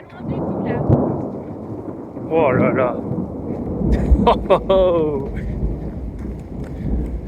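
Mountain thunderstorm above a ridge on a hiking trail, with low rumbling thunder throughout while a hiker's voice exclaims over it; the thunder is moderately loud and steady beneath the talk.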